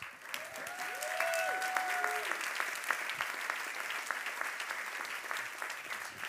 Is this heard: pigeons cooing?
no